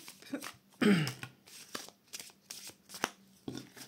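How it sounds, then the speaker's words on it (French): A deck of tarot cards is shuffled by hand, close up and fairly quiet, in a burst of riffling followed by several short rhythmic flicks and slides of the cards. "Allez, on mélange les cartes."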